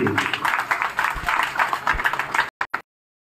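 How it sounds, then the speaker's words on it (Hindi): An audience at a Ganesh festival gathering applauds, a brisk, uneven clatter of many hands with a few deeper thuds, cut off abruptly after a couple of seconds. "कैलाश जोशी जी जोरदार तालियों से स्वागत करेंगे, तालियां रुकनी नहीं चाहिए।"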